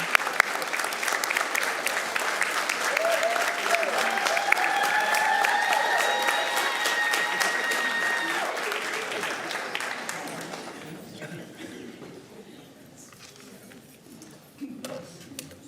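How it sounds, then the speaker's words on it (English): An audience at a school board meeting breaks into sustained applause, loud and steady for several seconds, then gradually thins out and fades to scattered claps. "Will everyone please give a round of applause to Coach Henderson?"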